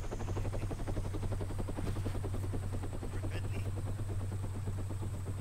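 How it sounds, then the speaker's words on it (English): A helicopter in the video game Takistan Life drones steadily, with a low engine hum under rapid, even rotor chop that stays constant and fairly close throughout. "Nice chopper."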